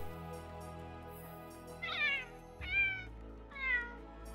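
Three distinct meows from a Palico cat voice in the video game Monster Hunter: World, spaced about a second apart over a faint steady game hum, with no talk.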